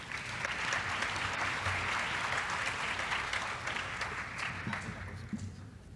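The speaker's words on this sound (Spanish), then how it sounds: "Un fuerte aplauso" Dense, continuous applause from a conference audience at an academic talk on human security in Latin America, loud and even for the whole stretch before easing slightly at the end.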